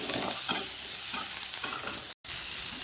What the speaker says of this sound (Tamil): இதில் வந்து ஒரு 3 பல் பூண்டு, கொஞ்சம் இஞ்சி போட்டுக்கிறேன், அதையும் போட்டு வதக்குறேன்.